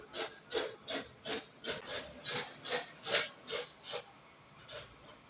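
Scissors or a blade cut through stacked pant fabric two layers at a time, a steady run of about a dozen soft, rhythmic rasping snips, close and quiet.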